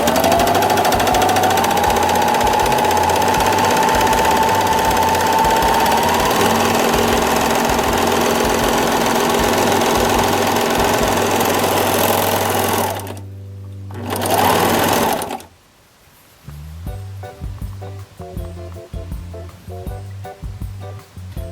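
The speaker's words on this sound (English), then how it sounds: "So what it did is it actually overlocked the edge of my fabric." A serger overlocks and trims the edge of fabric with a loud, fast, steady mechanical whir and rhythmic chatter. It stops briefly, restarts for a short burst, then gives way to quieter, intermittent machine noises.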